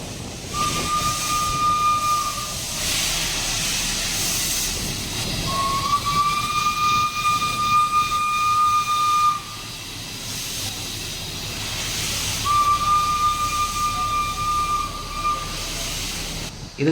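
Steam whistle of the EIR-21 heritage steam locomotive sounds three times: long, bright, steady blasts over a loud, continuous hiss of steam and rumbling train noise, with no talking.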